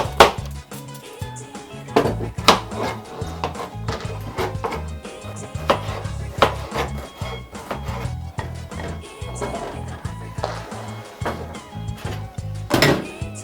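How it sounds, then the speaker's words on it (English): A kitchen knife dices carrots on a board in a steady run of close, crisp chops, with occasional louder knocks and pauses between, under a low background hum and no talking. "we're going to cut our carrots. Again, we're dicing them in squares"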